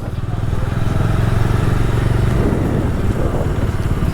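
A motorcycle engine idles steadily and loudly throughout as the bike is parked on a windy, cold day in Nainital, a continuous rumbling drone with faint clatter and no clear revving.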